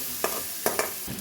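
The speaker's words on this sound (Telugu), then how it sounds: "ఎండుమిర్చి, పోపు గింజలు, ఉల్లిగడ్డ వేసి వేగనివ్వాలి." Onions, dried red chillies and seasoning seeds fry in a pan for a tomato meal maker curry. A few sharp stirring clacks land over a faint, steady sizzle, close by and brief.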